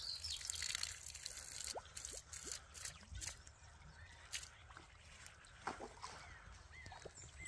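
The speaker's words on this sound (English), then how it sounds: "And we've got water coming out." Faint trickling and splashing water with scattered drips from a floating river-powered pump, steady and low outdoors, a soft gurgling flow running throughout.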